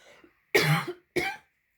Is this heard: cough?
yes